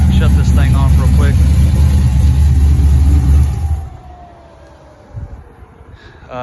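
A 1980 Chevy Malibu Classic V8 fitted with an aggressive Comp cam runs with a loud, deep, lumpy rumble up close, then shuts off and fades into quiet outdoor ambience with a faint sound near the end.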